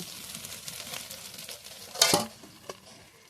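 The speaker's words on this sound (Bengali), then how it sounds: "ঠাস ঠাস করে ফেটছে দেখো" Eggs cooking in banana leaf inside a pan over a village wood-fired stove crackle softly, then give a sharp, loud pop and a smaller one shortly after.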